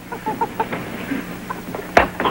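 A hen clucks in short, soft bursts, a few quiet clucks followed by a louder squawk near the end, close and alone.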